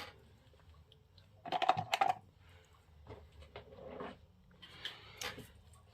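Scissors cut through card for a handmade greeting card, giving two short snipping bursts of crisp rustling separated by quiet handling noise.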